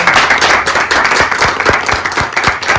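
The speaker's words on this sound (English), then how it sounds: "Give a round of applause." A small group claps together in a steady, lively burst of applause, distinct individual claps audible throughout, close and fairly loud.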